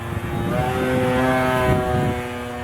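A Hangar9 P-51 Red Tail RC plane, converted from glow to electric and fitted with a two-blade propeller, flies overhead on its maiden flight, giving a continuous buzzing whine with steady harmonic tones at moderate distance.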